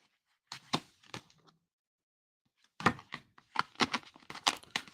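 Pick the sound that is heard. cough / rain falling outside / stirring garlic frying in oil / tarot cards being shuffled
tarot cards being shuffled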